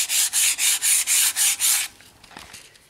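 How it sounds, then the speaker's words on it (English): Sandpaper rubs by hand along the bed of a wood lathe in seven steady, loud, evenly spaced strokes, close up, before the scraping stops and quiet handling noise follows. "you would lightly and gently sand the entire surface of the bed of the lathe"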